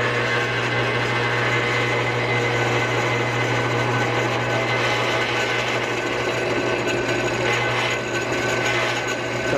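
A power drill bores steadily through a bolt on an Alta Redshift SM front brake caliper, producing a loud, continuous whining grind that holds without pause for the whole stretch.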